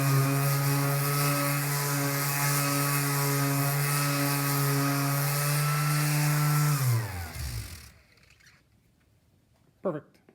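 Power sanders run with 80 and 120 grit on wooden drawers, a loud steady whine with a strong hum that holds for several seconds, then winds down and stops, leaving near silence with a brief knock.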